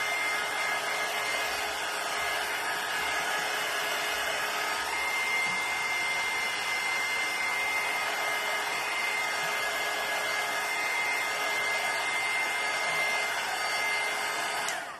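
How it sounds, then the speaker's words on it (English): A hair dryer drying a craft plaque blows steadily and loudly for the whole stretch, a constant broadband whoosh with a faint motor whine and no talking. "I am just hitting this with the dryer, you guys, just so it's nice and dry"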